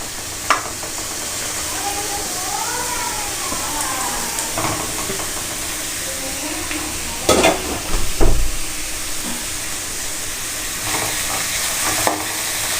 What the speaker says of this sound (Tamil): இது நல்லா வேகிற வரைக்கும் கொஞ்சம் நேரம் கிளறிட்டே இருக்கலாம்.